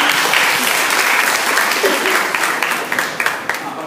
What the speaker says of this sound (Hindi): सोनाली जी के लिए जोरदार ताली।